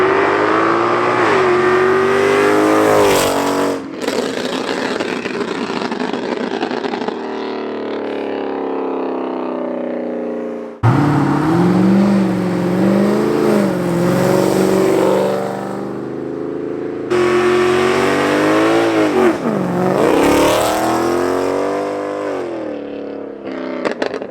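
A Mercedes C63 AMG fitted with a $10,000 supercar exhaust revs hard on a dyno, loud and close, climbing in long sweeping pulls with brief drops between them and no voices over the engine.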